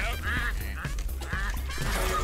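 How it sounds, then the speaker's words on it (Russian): Loud honking rooster calls in the video game RAWMEN: Food Fighter Arena, repeated in short bursts over continuous background noise and music, like a goose or rooster squawking. "Слышишь, петух?"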